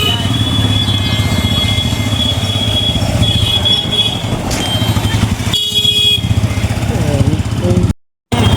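A newly bought motorcycle runs with a steady engine drone throughout, joined by horn toots and people talking nearby, before the sound briefly cuts out near the end.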